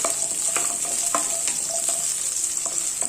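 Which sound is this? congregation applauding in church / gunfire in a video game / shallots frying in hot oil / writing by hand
shallots frying in hot oil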